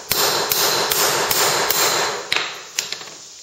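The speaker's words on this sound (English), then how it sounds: "alright, so it's not all the way hammered. I want to give it a few more good licks." Hammer blows drive home a board during an off-grid house build, a dozen or so sharp strikes at a steady pace, close and loud, with faint knocks between them and a few lighter taps near the end.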